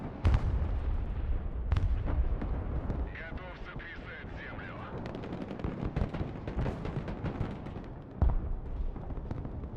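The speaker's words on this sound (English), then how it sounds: "This is like a cruise missile or something." Heavy booms and crackling blasts from a cruise missile strike in the video game Broken Arrow, with a sharp impact near the start, a rumbling battlefield din and another thump toward the end.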